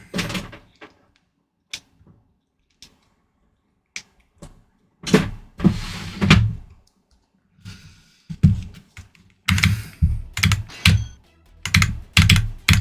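Keys clatter on a Wooting computer keyboard in sparse bursts, with quiet gaps that give way to a denser run of sharp, close clicks near the end.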